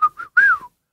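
A person whistles to imitate a bird call: three clear, close whistled notes, two short level tones followed by a longer rising-then-falling one, alone and with no talking.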